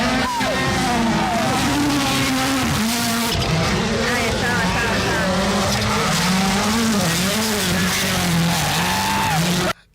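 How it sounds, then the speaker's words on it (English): Rally cars at the World Rally Championship in Kenya, tackling muddy terrain at the Kasarani super special stage: engines drone continuously and loudly throughout, their pitch rising and falling, under a steady crowd-like roar. "The cars zoomed off the Nairobi City Hall one after the other, heading towards the super special Kasarani stage"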